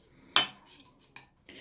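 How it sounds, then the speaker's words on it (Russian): A metal spoon scrapes and clinks against a bowl while stirring honey chicken, with a sharp first clink followed by a few softer taps and scrapes, close and alone. "Все это надо вот так"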